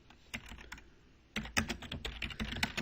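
Fingers tap on a computer keyboard up close, a short burst of clicks, a pause of about a second, then a quicker, denser run of keystrokes with no voice.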